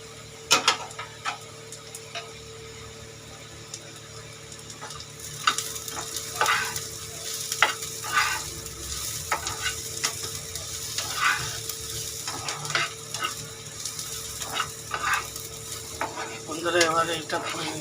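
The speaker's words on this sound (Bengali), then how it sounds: "ফোটনটা এবার একটুখানি ফ্রাই করে নেওয়ার পরে এবার ডালের মধ্যে এবার দিয়ে দেবে।" Phoron spices fry in a pan before going into dal, with a continuous sizzle under repeated clicks and scrapes of stirring that grow busier and louder partway through, no voices heard.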